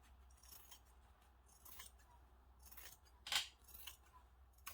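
Scissors snipping through a page of a Little Golden Book, a few quiet, crisp cuts spaced out with one sharper snip, heard close and alone.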